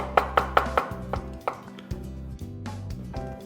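Rapid rhythmic pounding of two chilies and two garlic cloves with a pinch of sea salt in a mortar, a quick run of four sharp thuds followed by slower, irregular crushing strikes, close up.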